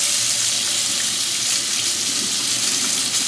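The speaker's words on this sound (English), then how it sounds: "we're going to start off with hot water" Hot water gushes steadily from a tap onto a still-hot cast iron pan, a loud continuous splashing rush close by with no talk.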